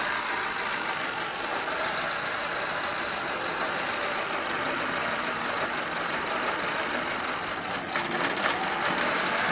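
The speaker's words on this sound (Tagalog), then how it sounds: "Ang lakas ng palya ng makina oh." A Honda Civic engine misfiring at idle close by, its steady drone broken by uneven stumbles and knocks, with no voices over it.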